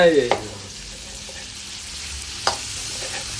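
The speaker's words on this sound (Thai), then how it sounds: "เกี่ยวให้หอมไปกับกระเทียมเลย" Garlic and other ingredients are stir-fried in a hot pan while making stuffed omelette, a steady sizzle with a couple of sharp utensil clanks against the pan and a brief voice at the start.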